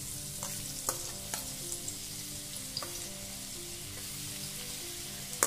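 Garlic paste fries in hot oil for a vegetable Hyderabadi biryani, giving a quiet, steady sizzle with a few faint clinks of stirring throughout.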